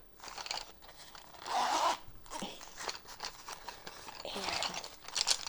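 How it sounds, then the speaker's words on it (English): Several quick pulls on a pencil bag zipper rasp back and forth up close, with crinkling fabric handling between them, fairly quiet overall. "The zipper sound I loved"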